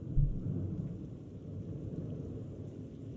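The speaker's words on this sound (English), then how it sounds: "It's been a lot of lightning, a lot of heavy rain, and all that sort of stuff" Thunder rumbles low and heavy through a severe storm in Texas, with a strong early roll fading into a steady wash of heavy rain that continues throughout; no voices.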